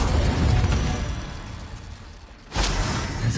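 Incendio fire spell cast in Hogwarts Legacy, a loud fiery burst that fades into a quieter stretch, then a sudden second whooshing blast of flame.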